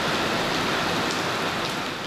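A heavy rainstorm driven by strong wind during a typhoon in Tseung Kwan O, Hong Kong, a dense, loud, unbroken roar of rain with no voices.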